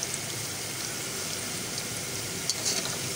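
Potato and cauliflower pieces fry gently in oil with a soft, continuous sizzle, close and even like light rain, a few brief crackles near the end.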